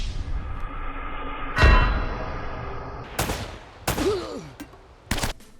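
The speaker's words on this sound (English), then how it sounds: "I did some more shooting and found myself with only 1 bullet to my name" Video game gunfire during a shootout, several sharp loud bangs spaced irregularly with ringing tails and echoing clangs between them, close and dominant.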